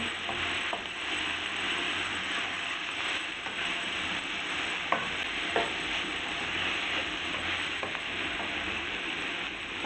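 Vegetables frying in a pan for vegetable rice, a dense steady sizzle with occasional clinks and scrapes of stirring, close and continuous.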